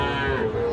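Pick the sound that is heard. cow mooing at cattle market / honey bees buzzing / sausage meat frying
cow mooing at cattle market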